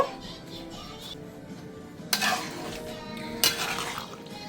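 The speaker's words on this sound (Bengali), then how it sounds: "এখন ভালোভাবে নেড়ে মিশিয়ে নিব।" A spoon stirs boiled chickpeas in a pot with a soft frying hiss underneath, and two sharper scraping strokes stand out against the steady background, close by.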